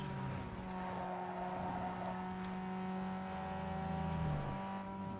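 A car engine in the racing game Need For Speed Underground 2 drones and climbs steadily in pitch as it revs toward 7,000 RPM, a continuous moderately loud whine.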